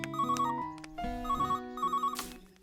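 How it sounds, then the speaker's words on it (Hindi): A cartoon telephone rings with a bright, electronic, melodic trill, repeating in quick bursts of tones, clear and close with no talk over it. "पॉल का फोन आया था"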